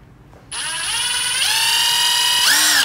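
A power drill fitted with a FAMAG wood drill bit bores straight in. After a brief lead-in, a loud steady high whine begins and holds, rising in pitch a couple of times as the motor speeds up, with no voices.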